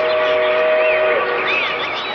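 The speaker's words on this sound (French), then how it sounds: "Je ne savais pas qu'il passait des trains près d'ici." A train passes nearby, its whistle sounding as a long steady tone followed by rising and falling calls, all set over a continuous rumbling rail noise that stays loud throughout.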